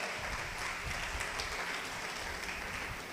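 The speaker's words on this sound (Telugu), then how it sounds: "గట్టిగా చప్పట్లు కొట్టండి, గట్టిగా దేవునికి స్తోత్రం." A congregation at a Telugu Christian sermon claps hard and continuously, a dense, even wash of applause that fills the whole stretch without a break.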